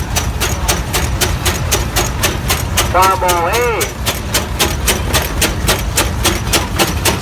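A 1922 antique tractor in a parade of land tractors chugs loud and close with a steady, evenly spaced exhaust beat, under someone talking and a brief whistle partway through.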